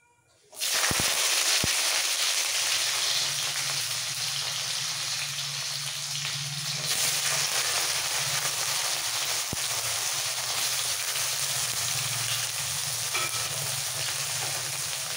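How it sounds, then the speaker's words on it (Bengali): Raw bitter gourd pieces hitting hot oil for a bitter dal, starting with a sudden loud sizzle after a brief quiet moment, then a steady, dense frying hiss that keeps going close by without any voice. "দিয়ে দিচ্ছি কাঁচা উচ্ছেগুলো।"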